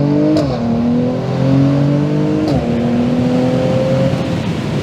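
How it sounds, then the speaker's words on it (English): A Mercedes C43 AMG accelerates hard, its engine note climbing steadily through the gears with two brief dips at the shifts, loud and close throughout with no talking. "I suppose the first job is to see if the C43 is fast."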